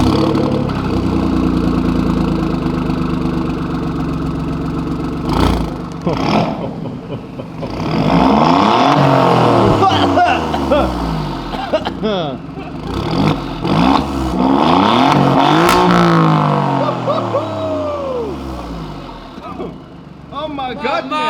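A 510 hp Alfa Romeo Giulia GTAm engine idles, then revs hard in rising and falling sweeps, loud and close, with people talking excitedly over it.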